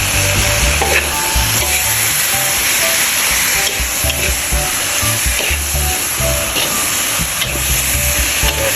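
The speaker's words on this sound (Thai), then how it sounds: "ผมผัดให้มันสลดหน่อยนี้" Chicken giblets stir-fried with onion flowers and kaffir lime leaves in a hot pan, a loud continuous sizzle with rhythmic scraping of the stirring utensil, close and without speech.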